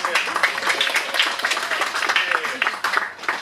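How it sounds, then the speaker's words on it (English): A crowd at a Kwanzaa event claps steadily throughout while a voice talks over the applause. "Clap one more time for yourselves."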